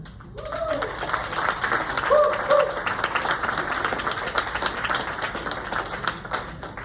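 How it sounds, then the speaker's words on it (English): An audience gives a round of applause at a comedy follies show, steady clapping that builds quickly and carries on for several seconds, with a few brief voices rising over it. "Let's give them a round of applause."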